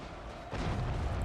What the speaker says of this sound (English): And they will fire at will, while the other units will hold their fire.